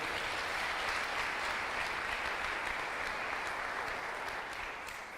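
Church congregation applauding during a sermon, a broad continuous roar of clapping that stays even and fairly distant, easing slightly at the end.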